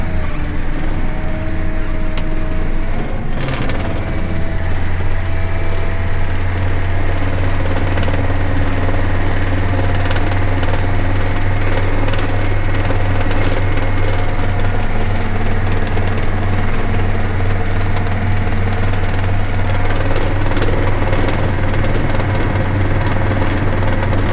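A tractor drives steadily at about 20 km/h while spreading Agstar fertilizer onto a barley field, giving a loud, continuous engine drone with a low rumble and mechanical rattle that runs unbroken throughout.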